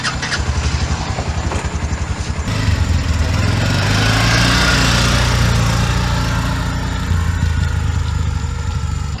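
A tractor engine idles at first, then revs up and runs steady and loud, a chugging mid-pitched drone throughout with no one speaking over it.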